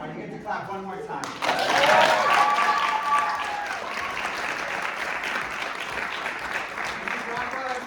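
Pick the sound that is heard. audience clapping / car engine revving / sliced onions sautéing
audience clapping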